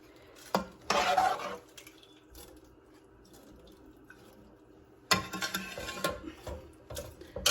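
Spoon stirring milk vermicelli dessert in a pot, with two bursts of scraping, clinking stirring, one short near the start and a longer stretch toward the end, separated by a quieter pause.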